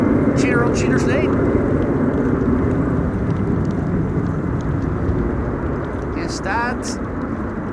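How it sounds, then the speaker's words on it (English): A DTM-liveried Embraer 190 airliner departs Amsterdam Schiphol for Frankfurt on a windy day, a steady jet rumble and roar under brief bursts of nearby chatter at the start and end. "that's the Deutsche Tourwagenmeisterschaft Embraer 190. Going to Frankfurt via Cheater's Lane."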